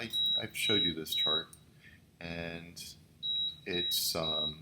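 An oven sounds thin, high electronic beeps in two bursts, repeated quickly, while a voice keeps talking over them at close range.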